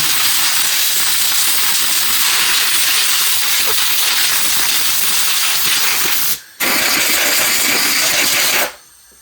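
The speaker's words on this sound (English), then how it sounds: "I'm just going to give it a good blowing with the air." Compressed air blasting the filter of a Husky 60-gallon air compressor, a loud, harsh, continuous hiss that cuts out twice near the end.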